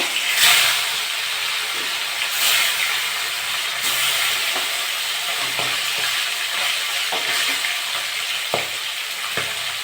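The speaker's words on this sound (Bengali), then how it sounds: "বাকি মাছগুলো আমি একইভাবে ভেজে নেব" Silver carp fish sizzles steadily in hot oil, a continuous loud crackling hiss with occasional stirring clinks and bursts of spitting.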